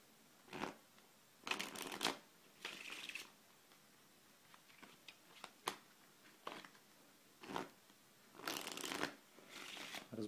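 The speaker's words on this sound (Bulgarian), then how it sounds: "Разбърквам картите." A deck of playing cards is shuffled in several quick, crisp riffling bursts separated by short pauses, close and quiet in an otherwise still room.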